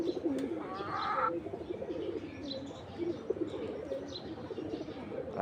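Domestic pigeons kept by a loft fancier for flying coo steadily and close by, low rolling calls repeating throughout, with a brief burst of higher chirping early on and faint wing flutter.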